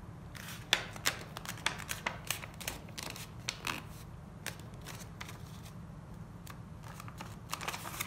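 Crisp rustling and creasing of a sheet of colored origami paper being folded in half, a close run of quick papery crackles and taps with no talk.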